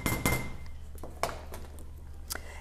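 A metal spoon clinks against a glass spice jar while measuring powdered spice for taco seasoning, giving several sharp, close taps spaced irregularly over a low steady background hum.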